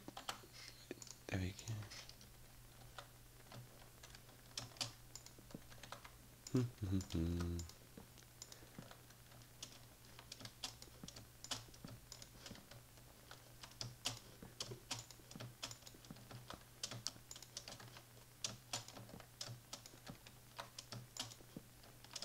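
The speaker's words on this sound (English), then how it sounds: "I don't know if you can hear me like bashing around the keyboard." Typing on a computer keyboard, faint rapid key clicks heard steadily throughout, with a brief low voice and some quiet background hum.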